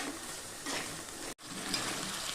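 Crab pieces fry and sizzle in hot oil while being stirred, a steady close crackle with a brief dropout partway through and no talking.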